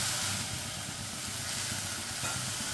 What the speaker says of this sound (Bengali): আর একটু জলের ছিটা দিয়ে দেবো, যাতে লবণ মিষ্টিটা ভালোভাবে গলে যায়